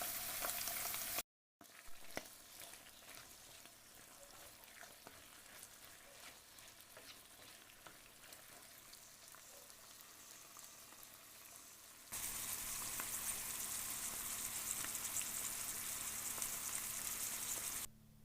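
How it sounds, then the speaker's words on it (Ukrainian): Chicken fillet and mushrooms sizzle steadily in a pan, a dense crackling hiss that cuts out briefly near the start and grows louder and brighter toward the end. "Гриби і смажимо ще 7 хвилин."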